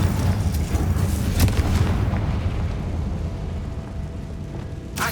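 A fiery Confringo spell blast from Hogwarts Legacy, booming loudly at the start amid dense rumbling combat noise, then trailing into a lower, steady roar with a sharp burst near the end.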